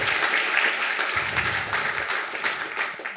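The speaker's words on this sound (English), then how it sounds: "big applause to him." Applause from a conference audience at a GUADEC closing session, a dense, fairly loud burst of clapping that carries on without pause.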